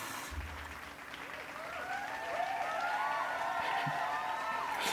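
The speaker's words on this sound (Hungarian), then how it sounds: "Így tapsol mindenki neki." Applause breaks out during a bathroom flooding experiment, a soft wash of clapping that swells and holds steady, with voices talking over it.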